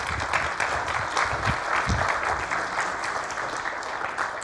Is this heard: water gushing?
no